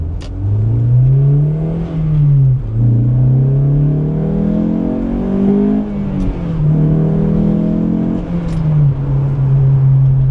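A Honda S2000 with a freshly rebuilt shifter accelerates hard through several gears, its engine note climbing steadily and then dropping at each shift, loud and continuous from inside the car with no talking.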